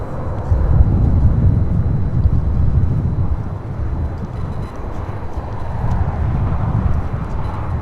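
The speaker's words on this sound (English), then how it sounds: "this is American Airlines 1995, coming in from Charlotte on an A321" An American Airlines Airbus A321 arriving from Charlotte rumbles past at LAX with a loud, low, steady roar that swells early and holds throughout, roughened by gusty wind on the microphone.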